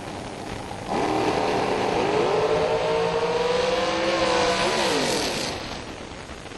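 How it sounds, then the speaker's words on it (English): A drag racing car at a bracket race powers down the track in one loud, sustained engine howl that climbs in pitch through the run, then fades as something in the car lets go and it backs off. "Oh, something let go in Williams' car."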